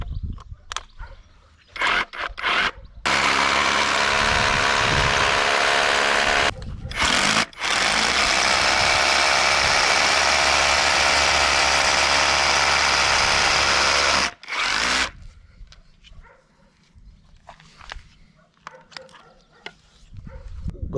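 A Parkside PKHAP 20-LI cordless hammer drill bores with a 12 mm bit in two loud, sustained bursts of rattling hammering, separated by brief pauses and followed by quieter handling noises.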